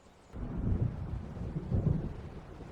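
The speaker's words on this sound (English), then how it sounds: "It seems there's a storm coming." Thunderstorm rolling in within the video game Alan Wake: a low, rumbling swell of distant thunder that builds, eases, then surges again over about three seconds, heavy and muffled with no voices.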